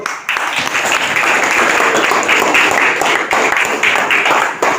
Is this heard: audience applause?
yes